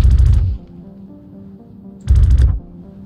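Two short bursts of video game gunfire, about two seconds apart, each a loud rapid cluster of shots over a low steady in-game background hum.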